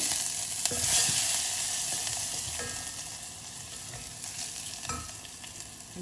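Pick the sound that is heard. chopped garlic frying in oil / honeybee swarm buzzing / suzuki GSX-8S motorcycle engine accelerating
chopped garlic frying in oil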